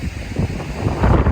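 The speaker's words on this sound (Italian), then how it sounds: "vento ce n'è forse un po' troppo" Strong wind buffeting a microphone outdoors in Iceland, loud rumbling low gusts that surge and thump unevenly, growing heavier toward the end, with no voices.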